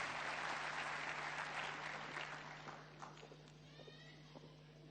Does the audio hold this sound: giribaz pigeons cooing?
no